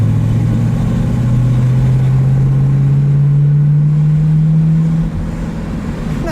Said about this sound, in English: Let's hear that 4-barrel V8.